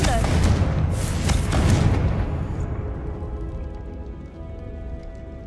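A Confringo fire spell cast in Hogwarts Legacy bursts as a loud, crackling blast in the first two seconds, then trails off into a fading rumble and hiss.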